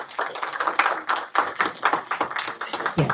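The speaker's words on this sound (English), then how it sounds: "Can we give them another round of applause," A conference audience claps together, a loud, close burst of many hands with slightly uneven rhythm sustained throughout, and no talking over it.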